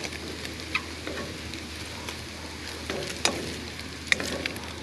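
Pork-fried rice stir-fries in a hot pan with a steady, soft sizzle, broken by occasional sharper clicks and scrapes as it is tossed and stirred. No voices are heard.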